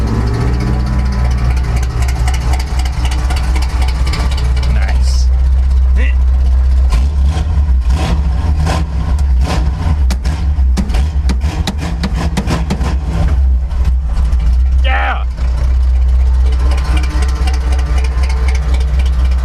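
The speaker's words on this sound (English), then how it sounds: "I made a truck run" A Chevrolet C10 pickup truck engine runs steadily with a loud, low idling rumble, rising and falling in revs, with brief clatter and a voice speaking over it.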